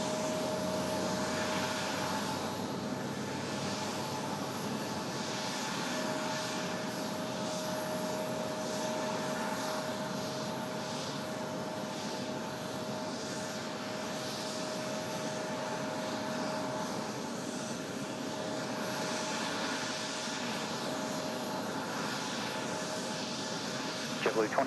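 JetBlue jet airliner taking off at Raleigh Durham International Airport, a continuous broad engine roar sustained at moderate loudness throughout.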